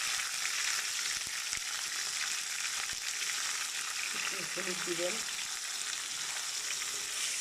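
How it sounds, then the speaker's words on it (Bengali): Hilsa fish fry in a pan with a steady, close hiss of sizzling oil, and a voice briefly speaks over it. "মাছগুলো ভাজবেন, সুন্দর করে ভাজবেন।"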